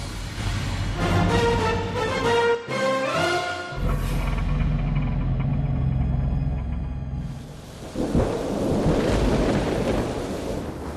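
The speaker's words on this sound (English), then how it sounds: "Moscow was trembling from peals of thunder and lightning" Deep rolling peals of thunder over Moscow rumble loudly and continuously, with a heavy crack partway through and a surge of storm noise, rain and wind toward the end, no voices.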